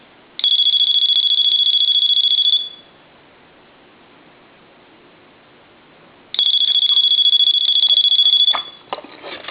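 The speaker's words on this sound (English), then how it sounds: "I want to ring it, give it one final ring. Put over in the analyzer. Let it ring a couple times." A repaired Dolphin telephone rung through a line analyzer during a repair: two loud, steady electronic ring bursts, each roughly two seconds long, separated by a long silent gap, heard alone with no talking.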